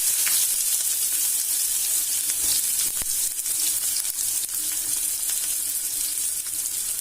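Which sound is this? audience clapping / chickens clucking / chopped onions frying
chopped onions frying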